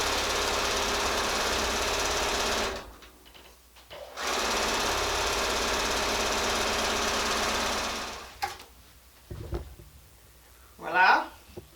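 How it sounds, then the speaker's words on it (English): A sewing machine runs steadily up close while stitching a quarter-inch seam on a Lone Star quilt block, stopping briefly, then running again for several seconds; after it stops, a voice briefly talks and there are a few light handling sounds. "just sew it together with your 1/4 of an inch seam"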